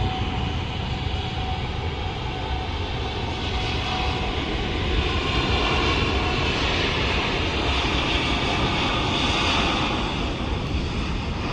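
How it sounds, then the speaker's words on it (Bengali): Biman Bangladesh Airlines Boeing 787 Dreamliner taking off from Dhaka airport, its jet engines giving a steady, loud roar that fills the whole stretch, with no voices over it. "আমরা দেখতে পাচ্ছি বিমান বাংলাদেশ এয়ারলাইন্সের বোয়িং 787 ড্রিম লাইনার এগিয়ে যাচ্ছে উড্ডয়নের জন্য।"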